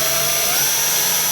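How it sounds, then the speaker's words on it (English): A power drill bit boring slowly through a sheet of silver into the wood beneath, the steady high whine of a small rotary tool running for about a second and a half with no talk. "drill through that"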